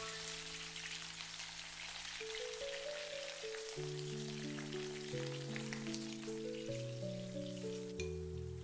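Boiling water poured into a wok of ginger shreds stir-fried in oil or lard, a steady splashing hiss that runs the whole time under background music.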